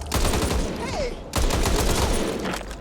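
Close-range gunfire in the zombie shooter Back 4 Blood, with dense bursts of loud, rapid shots that break off briefly partway through and then resume just as heavily.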